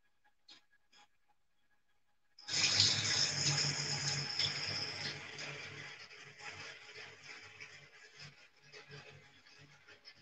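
Tap water gushes into a sink, starting abruptly after a few quiet clicks and running as a loud, close, steady splash that eases slightly as it continues.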